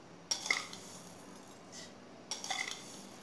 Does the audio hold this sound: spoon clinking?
yes